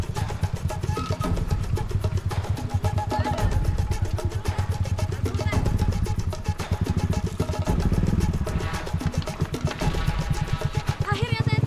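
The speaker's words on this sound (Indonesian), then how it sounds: "Kami harus naik motor modifikasi menuju ke pasar." A modified motorcycle rides toward the market on a remote village route, its engine chugging in a fast, steady rhythm close by for the whole stretch with small surges in revs.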